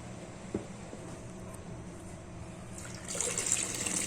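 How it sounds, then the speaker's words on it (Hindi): Water is poured into a pot of thin sambar dal. There is a soft, faint trickle at first, then a louder gushing pour near the end, with no talking. "मैं और पानी डाल रही हूँ उसमें।"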